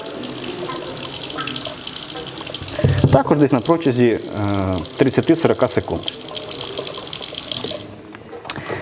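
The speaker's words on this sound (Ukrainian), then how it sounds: "І ось знову у нас побігла рижа чорна вода." Reddish-black water runs from a reverse osmosis filter into a sink after the filter media is flushed from the post-filter, a steady splashing rush that continues under a man's close speech.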